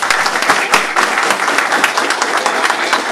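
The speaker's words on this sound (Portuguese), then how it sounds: "você estava sendo aplaudido aqui" An audience applauding during a public hearing about a soldier training course, steady loud clapping throughout with no speech.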